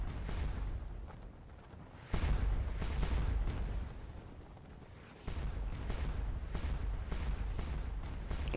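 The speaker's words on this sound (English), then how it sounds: "Those guns are still pounding away on those scattered Prussian units out there" Artillery guns firing in the Napoleonic battle game Scourge of War Waterloo at the Ligny scenario, deep rumbling booms in long rolling waves, two sharp onsets swelling into sustained thunder, heavy and continuous without speech.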